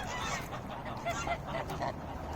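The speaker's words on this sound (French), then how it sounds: "comme vous voyez, il y a des canards là, juste ici" Ducks gathering on a lake to be fed give a scatter of honking, quacking calls at moderate distance, several short calls in loose succession over a continuous outdoor background.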